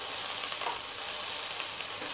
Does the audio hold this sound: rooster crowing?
no